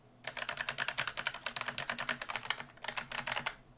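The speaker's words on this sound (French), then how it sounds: "comme ça vous entendrez mieux le son des touches" Rapid typing on a Logitech MX Mechanical low-profile mechanical keyboard, close up, with quick muted clicky keystrokes in dense bursts and a brief pause before a final flurry.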